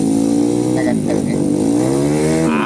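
A motorcycle taxi carrying a load roars at close range on slippery, muddy ground, its engine revving and rising and falling in pitch. The loud, continuous drone fills the whole stretch.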